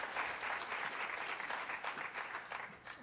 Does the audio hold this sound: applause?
yes